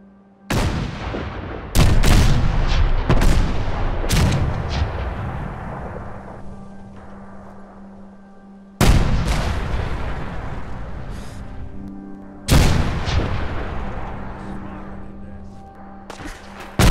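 A modded PTRS rifle firing explosive rounds in Fallout 4 booms in a series of loud, heavy blasts, several quick shots early and then two spaced ones, each followed by a long rumbling decay.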